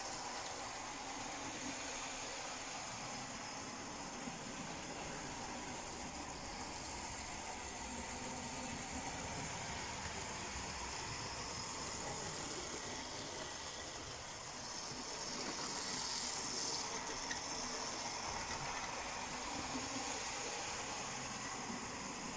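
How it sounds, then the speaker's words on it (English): A small model train runs steadily on its track, a continuous faint whirring rumble with a soft hiss, no voices, steady throughout. "pulling a small train."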